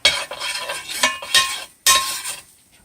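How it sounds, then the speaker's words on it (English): A utensil stirs food around in a pan before smoked beef brisket goes in, giving several close, clinking scrapes in uneven bursts with short pauses between. "Stir it around a little bit"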